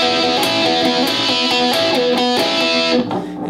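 A lead electric guitar line plays the We Shine part in a varied rhythm, with bright sustained notes over a steady backing that drops away near the end.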